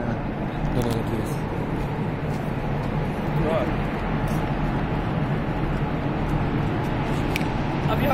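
Vehicles driving through the Zojila Tunnel, a dense, continuous rumbling roar that resonates and hangs steadily throughout, with a few louder passing swells and talk mixed in.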